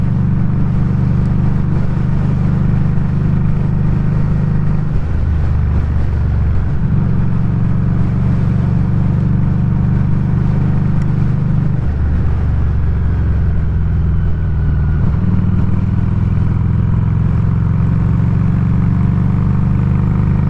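Harley-Davidson Street 500 motorcycle engine cruising in fifth gear around 4100 RPM at about 60, a loud, steady low drone with heavy wind rush and slight throttle changes.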